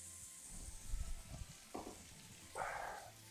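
Butter sizzles faintly in a pan while lamb rack is basted, in short soft bursts of crackle separated by quiet moments and light clinks.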